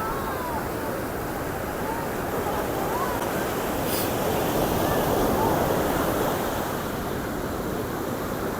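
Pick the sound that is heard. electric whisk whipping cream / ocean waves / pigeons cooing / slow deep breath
ocean waves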